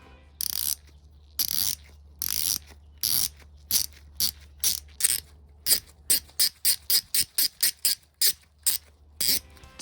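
A ratchet wrench clicks in repeated bursts after Bell Hammer lubrication, slow at first, then faster and evenly spaced, crisp and close with nothing else around.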